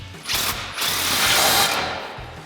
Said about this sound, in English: We'll tighten down our over axle clamp. Next, we can tighten down our Y-pipe clamp.